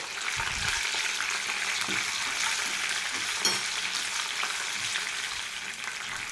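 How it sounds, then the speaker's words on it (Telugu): Green chillies frying with peanuts in hot oil for a tempering, a steady close sizzle running throughout with a few soft stirring knocks. "ఇప్పుడు ఇందులో పచ్చిమిర్చిని ఘాట్లు పెట్టి పెట్టుకున్నాం కదా అవి వేసుకొని ఫ్రై చేసుకోవాలి"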